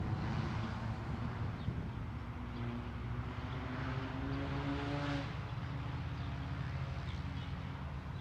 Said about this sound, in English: American Airlines from Washington National, Airbus A319 coming on in.